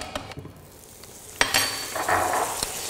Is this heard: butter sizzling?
yes